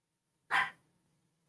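A single sharp dog bark rings out indoors, close and alone, then fades to quiet with a faint knock at the end.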